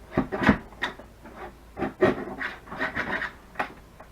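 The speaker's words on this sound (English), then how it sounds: "So I'm just going to lightly trim that." Paper for a journal pocket being lightly trimmed, giving a series of close, soft rasping cuts and rubs in short uneven strokes, with no talking.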